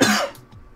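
A single short cough from a podcast host, close and dry, one sharp burst that fades quickly into quiet.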